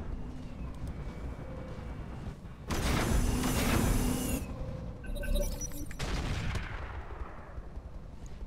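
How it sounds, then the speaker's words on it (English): A large autocannon fires in a Roguetech mech battle, loud booming blasts with a heavy rumbling burst followed by a second crashing impact and lingering mechanical noise. "Oof, that sounded like a large gun."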